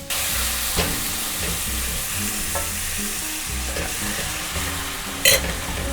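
Garlic and tomato paste sizzle loudly in a hot pan, a steady dense frying hiss throughout with occasional stirring scrapes and a brief sharper clatter near the end, no voices.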